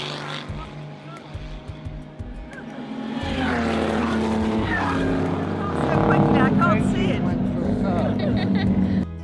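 1930s Grand Prix race cars racing at the South African Historic Grand Prix: several engines rise and fall in pitch as they rev and pass, growing louder midway, with a voice speaking over them.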